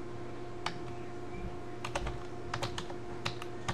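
Quiet keyboard typing: scattered key clicks, a few isolated then a quick burst of taps, over a low steady hum.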